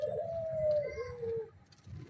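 A pigeon feeding from a hand gives one long, drawn-out coo, close and clear over a low, murmuring background.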